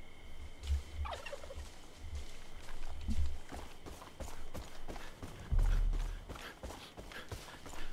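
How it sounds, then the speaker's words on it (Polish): Angry turkey gobbling in the video game Far Cry 5, several loud rattling gobble bursts spaced across the clip, heard alone over low game ambience with scattered footstep-like thumps. "Wściekły indyk."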